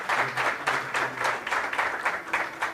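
A church congregation claps in steady, rhythmic applause, a dense, even patter of many hands filling the room for a few seconds.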